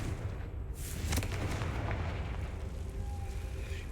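A Confringo spell explosion in the Hogwarts Legacy video game lands as a low, rumbling blast with a crackling burst, followed by a sustained booming roar that fills the whole clip with no speech.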